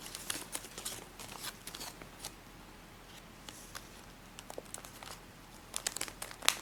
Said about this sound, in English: so take this tip and fold it just like this